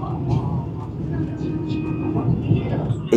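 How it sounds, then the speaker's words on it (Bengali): A Vande Bharat Express overtakes an Amrit Bharat train, heard from on board as a steady, fairly loud low rumble of rolling carriages with murmuring voices beneath it. "বন্দে ভারত ওভারটেক করবে হচ্ছে অমৃত ভারতকে"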